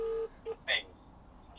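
Telephone dialing tones beep in a short quick sequence, a few distinct pitched pulses close and clear.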